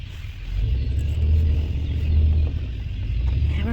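A car drives along as heard from the back seat, its low engine rumble and road noise steady and close, rising slightly as it picks up speed.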